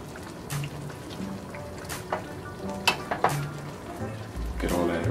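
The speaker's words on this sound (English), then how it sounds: "I'm gonna let that cook for a bit and sizzle." Meat sizzling and frying in a pan while being cooked for baked spaghetti, a steady close crackle with a few stirring clatters and soft voices talking in the background.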